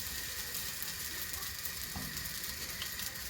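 A pot of Jamaican-style curry and rice bubbles and sizzles on the heat, a faint, continuous crackling hiss with a soft clink partway through, with no voices.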